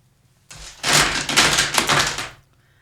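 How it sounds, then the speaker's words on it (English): Mahjong tiles mixed by hand on a table, a dense clattering wash of many small tiles knocking together, loud and close for about two seconds with no talk. "You hear the mixing of the tiles?"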